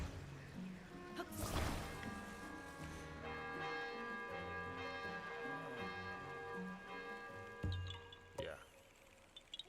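A bell being struck in The Legend of Zelda: Tears of the Kingdom rings out after a sharp hit, its long metallic tones sustaining over a soft melodic game backdrop, with a second impact near the end.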